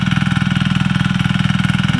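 A mini tractor harrowing a field being prepared for tomato planting runs loud and close, its engine chugging in a fast, regular pulsing rhythm throughout.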